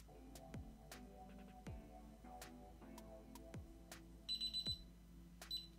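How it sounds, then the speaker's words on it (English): A quiet home alarm system chime sounds near the end as away mode is set, a short run of four rapid pulsed tones over a faint room background with scattered clicks. "So now you actually hear the chime"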